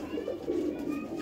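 A Ferozpuri pigeon coos in a rooftop loft, soft repeated throaty coos close by with a steady low background, no talk.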